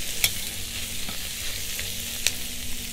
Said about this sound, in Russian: Все это хорошо перемешать.